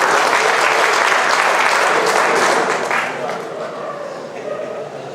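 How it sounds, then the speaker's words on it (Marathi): An audience at a union anniversary function bursts into loud, sustained clapping that fades gradually toward the end, with no voices over it. "एकदा जोरदार टाळ्या"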